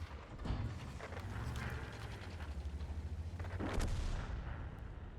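Tank cannon fire in an online armored combat game, heavy booming shots rolling over a dense, continuous engine and battlefield rumble with no talk.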